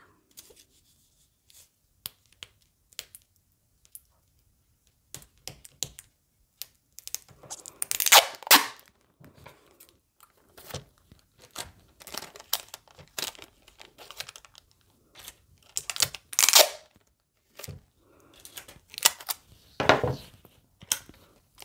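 Adhesive tape is pulled and wrapped around a rolled paper quiver in a craft project, giving scattered crinkling, tearing and rustling bursts that grow busier in the second half, close by with no talk.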